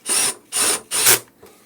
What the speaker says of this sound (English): Now I'm tightening all the screws